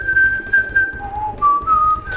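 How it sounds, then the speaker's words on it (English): A person whistles a video game melody alone, a clear sustained tune of held and sliding notes in short phrases, close and fairly loud, with no talking. "Can you stop whistling it, please?"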